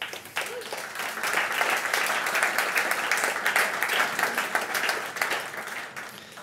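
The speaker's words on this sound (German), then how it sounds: "wir begrüßen jetzt mit einem Applaus Barbara Rittberger" An audience at a business dialogue event in Upper Austria claps steadily, a dense sustained applause that swells and holds for several seconds, with a faint voice beneath.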